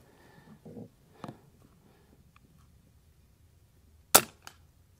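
A .177 Avenge-X Classic air rifle fires JSB slugs at a steel target 100 yards out. A faint pop comes first, then, a few seconds later, one sharp metallic smack rings out, clear and isolated against quiet outdoor background.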